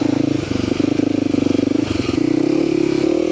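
A small motorcycle being ridden outdoors on hilly ground, its engine buzzing loud and close with a steady, rising mid-pitched drone and brief dips in throttle.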